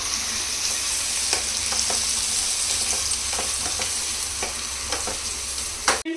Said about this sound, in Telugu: ఈ ఆనియన్స్ అన్నీ గోల్డెన్ బ్రౌన్ కలర్ వచ్చే వరకు ఫ్రై చేసుకోవాలి